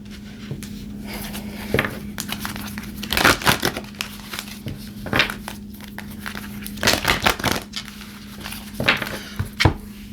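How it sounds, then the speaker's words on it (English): Tarot cards being pulled and shuffled, giving a steady papery rustle with louder bursts of card slaps and crinkles scattered through, close and alone without talk. "So let me pull some cards."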